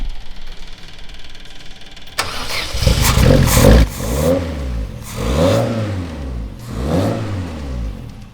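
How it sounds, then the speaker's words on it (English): A tarmac rally race car engine cranks and fires up, then idles roughly and revs in three rising and falling bursts, loud and close. "It's now time to start it up and hear it properly."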